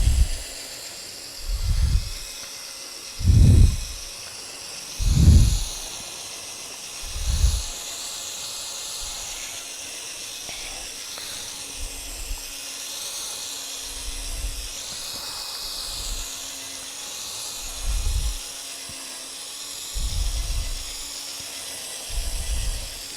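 A Powerball polishing ball spun by a drill spreads compound over aluminum, giving a continuous whirring hiss with wavering high tones and recurring low rumbling thumps as the ball presses and moves across the metal.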